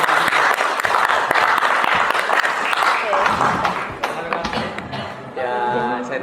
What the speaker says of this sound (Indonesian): Mari kita beri aplaus untuk Bu Anissa.